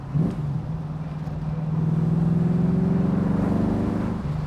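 A classic MGB V8 car engine revs up from a low idle into a sustained, rising throaty drone, close and loud, then eases back slightly, with no talking over it.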